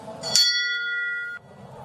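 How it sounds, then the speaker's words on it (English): A single bell chime rings out at a show jumping grand prix qualifier at Del Mar Fairgrounds, struck once with a clear bright tone that sustains and slowly decays over a quiet arena background. "The bell has sounded for number 702 next to compete here in our Intuit Grand Prix qualifier."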